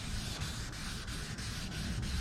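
Wet sanding a car's paint by hand: steady rhythmic rubbing strokes, a little under a dozen over two seconds, close up and quiet, with no voices.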